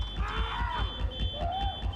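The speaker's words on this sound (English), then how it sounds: "When the fire alarm signal went off, the employee called out to maintenance." A fire alarm sounds inside a Texas prison, a steady high electronic tone holding across the whole stretch over a dense, noisy background of low rumble and clatter, with faint sweeping tones drifting through.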